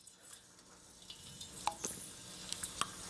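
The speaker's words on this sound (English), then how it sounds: "So I'm gonna just grab my fries and fry them the first time." Potato fries dropped into hot peanut oil for steak frites, a quiet hiss building into crackling sizzle with scattered sharp pops and bubbling spits.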